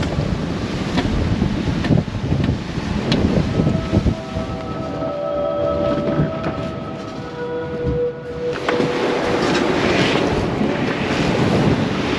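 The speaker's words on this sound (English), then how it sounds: "Biggest waves you've ever seen in your born days." Huge ocean waves crash and surge around a yacht at sea while strong wind buffets the microphone, forming a loud, continuous roar with rushing water throughout and no voices.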